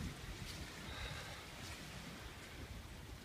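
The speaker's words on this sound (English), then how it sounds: "The reason I done it is because it's so windy up here." Strong wind on an exposed spot beside a vehicle being strapped down, roaring steadily and buffeting the microphone throughout with low rumbling gusts and no speech.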